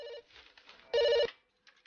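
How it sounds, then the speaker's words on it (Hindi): A telephone rings indoors in short electronic bursts, one brief trill, a pause, then a louder sustained ring, with quiet gaps in between. "मुझे बताना किसका फोन जी है"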